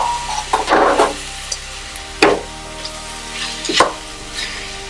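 Frozen mushrooms dropped into a pan with cashew paste for vegan alfredo sauce, heard as several loud scraping, rustling bursts against a quieter frying background, with no voices.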